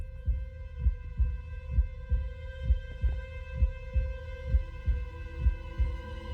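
A steady heartbeat sound effect from a Minecraft game thumps in a regular double-beat rhythm, close and fairly loud, with a sustained tonal hum under it and no talking.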